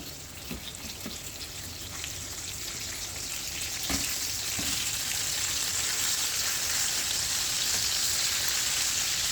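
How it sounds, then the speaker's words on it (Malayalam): Beef steak sizzling in olive oil in a grill pan, a steady crackling fry that grows louder and denser after a few soft knocks near the start, heard alone at moderate volume. "ഇനി അതിലോട്ട് നമ്മൾ ആ സ്റ്റിക്ക് ഇട്ട് കൊടുക്കാം."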